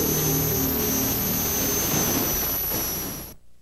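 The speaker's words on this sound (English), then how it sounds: "They hit the afterburners and they're off on a pass, wheel to wheel." Two jet dragsters fire their afterburners for a wheel-to-wheel qualifying pass at a 1995 Pro Jet Car Nationals drag race in Atco, a loud, steady, close roar with a piercing high whine that holds for over three seconds before cutting off abruptly.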